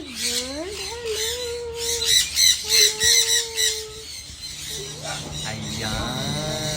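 A pet bird in an aviculture setting lets out loud, harsh squawks, several rising calls in a row with a burst of rapid repeated squawks in the middle, while people speak in the background.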